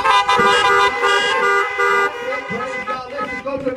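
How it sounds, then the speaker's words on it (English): Car horns honk at an outdoor prayer gathering, several horns blaring together in long overlapping blasts, loud and near, with a voice speaking among them. "honk your horn tonight."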